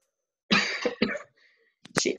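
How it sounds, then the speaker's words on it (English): A few sharp, harsh coughs close to the microphone, separated by brief pauses, in an otherwise quiet room. "Sorry, I got a cough still."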